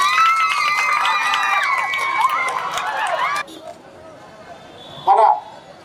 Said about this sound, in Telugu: దయచేసి అందరూ కూడా గట్టిగా చప్పట్లు కొట్టాలి